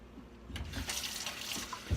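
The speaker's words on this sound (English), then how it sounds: "Put some water in there." Water pours from a tap into a tie-dye container holding mixed dye, a short splashing fill that rises and falls over about two seconds, with a few clunks, close and moderately loud, no talking.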